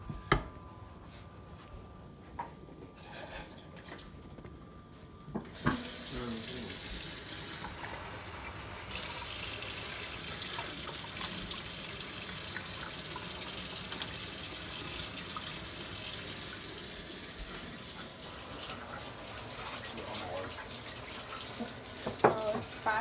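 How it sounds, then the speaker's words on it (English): Tap water runs into a cup in a kitchen, a steady hiss that begins after a few seconds of quiet and carries on for most of the clip before easing off. "I'm gonna add a half cup of water."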